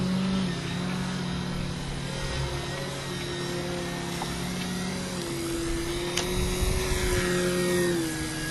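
Engine of an RC model Harrier jet flying outdoors, a steady loud drone that rises in pitch as the throttle is opened, with the tone climbing and holding high toward the end.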